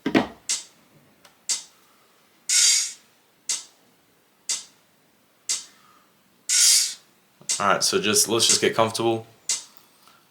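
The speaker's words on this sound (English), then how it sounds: "let's try it with a metronome. Now at first, of course, we can go slow since it's a new rhythm. We'll go 60 beats per minute." A metronome ticks steadily at 60 beats per minute, one crisp click each second, while a person talks quietly over and between the ticks.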